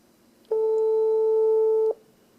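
A single steady electronic ringing tone from a phone speaker, calling a TK102 GPS tracker, lasts about a second and a half, then cuts off, leaving quiet background hiss.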